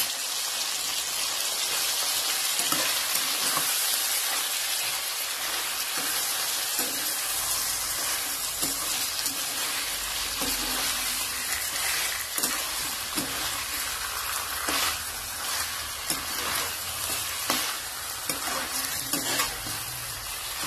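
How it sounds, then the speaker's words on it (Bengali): Chicken kosha stirred and fried in a kadai: steady sizzling with repeated scraping strokes of the spoon, continuous and close, with no voices. "নাড়ার পর 2 থেকে 3 মিনিট ভালো করে নাড়ব।"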